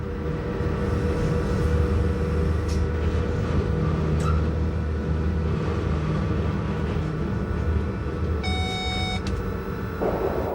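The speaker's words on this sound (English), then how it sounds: "The loco hauling our train is one of the 8 Furka-Oberalp HGE 442 machines purchased in the 1980s from SLM" Furka-Oberalp HGE 4/4 II electric rack locomotive built by SLM in the 1980s, hauling the Glacier Express on a mountain climb: steady loud rumble and drone of running gear and motors throughout, with a brief high whine near the end.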